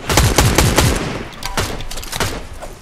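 Rapid bursts of gunfire in a Fortnite Battle Royale match, loud and close, with a quick volley of several shots at the start followed by scattered single cracks and echoing reports.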